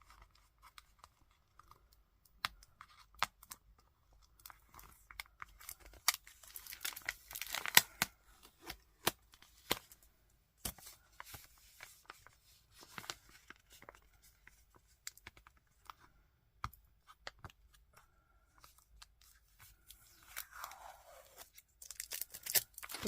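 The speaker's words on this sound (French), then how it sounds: "Là, il y a du scotch. Ah, pareil, hein, on enlève doucement." Tape being slowly peeled off a cardboard parcel during an unboxing, with scattered tearing and crinkling bursts spread across a quiet room, close and fairly soft, with no one speaking.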